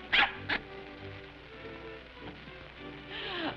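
A small dog in a 1937 film gives two sharp barks at the start, then softer whimpering and rustling over quiet background hiss.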